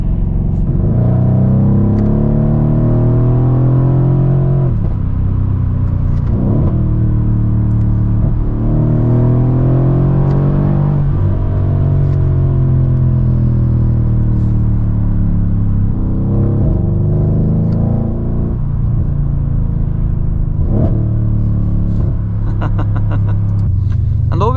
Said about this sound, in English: With this exhaust modification that the owner has done, there's so much drama. Each time the upshifts or downshifts